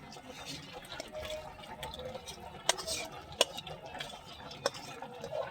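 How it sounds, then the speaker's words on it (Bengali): Beef is mixed into boiled rice for beef biryani in a cooking pot, with soft wet stirring and occasional sharp spoon clinks against the pot under a low background hum. "গোশটা দিয়ে চালটা ভালো মতো মিশিয়ে নেব।"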